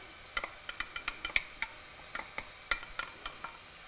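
Onions, tomato puree, paprika and garlic stirred in a pan for a courgette and squash stew, giving a run of crisp scraping taps over a soft, steady sizzle, with no voices.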